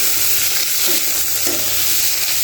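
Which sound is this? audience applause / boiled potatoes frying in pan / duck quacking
boiled potatoes frying in pan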